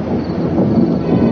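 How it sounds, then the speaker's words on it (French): A deep, continuous rumble of thunder, rolling and fairly loud throughout a brief moment with no speech over it. "Sans doute le tonnerre et les éclairs qui me mettent mal à l'aise"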